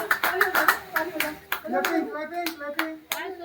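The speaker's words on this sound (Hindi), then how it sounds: "ताली बजा दो ताली बजा दो ताली बजा" Hands clap in short rhythmic bursts at a child's fourth birthday party at home, close and fairly loud, with adults and children talking and chanting between and over the claps.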